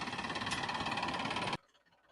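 A tractor engine runs steadily and loud at close range for about a second and a half, with a rough, knocking idle, then cuts off abruptly into near silence.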